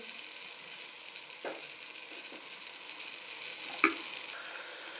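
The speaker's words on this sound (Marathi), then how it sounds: "त्यात मॅरिनेट केलेलं मटण टाकलं आहे व हे आपल्याला मिक्स करून घ्यायचं आहे" Marinated mutton sizzling steadily in a pan with tomatoes for biryani, a constant soft frying hiss with a few light scrapes and one sharp clink from stirring.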